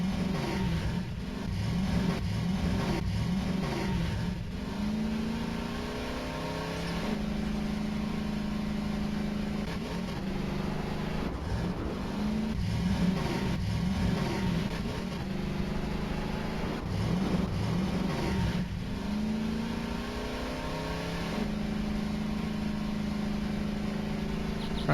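A car engine in the video game Voices of the Void drones at a steady mid pitch while driving, with repeated revving swells every few seconds, continuous and moderately loud with no talking.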